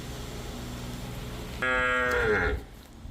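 A Jersey cow on a farm gives one long, loud moo that rises and falls over about a second, alone against a steady background hum.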